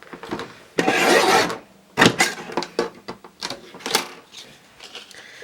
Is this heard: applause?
no